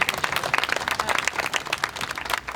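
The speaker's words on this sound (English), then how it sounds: "Can we just give them another round of applause?" An audience applauds at a community event honoring a street naming, a dense, steady burst of clapping filling the whole moment with no voices over it.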